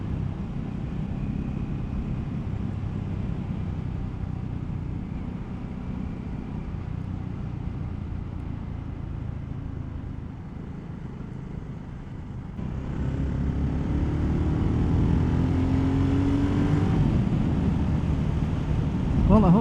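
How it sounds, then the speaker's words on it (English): A BSA Gold Star 650 big single-cylinder motorcycle riding along at road speed, its steady low exhaust drone rising and growing louder partway through, heard from onboard with wind noise. "Well, I hope the camera's picking up the exhaust note."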